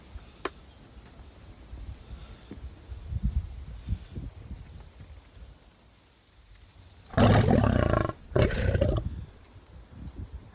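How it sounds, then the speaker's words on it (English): A lion roars in a garden in two loud, rough bursts late in the clip, rising out of quiet outdoor ambience with faint insect hum and a few soft knocks earlier on. "It's a lion."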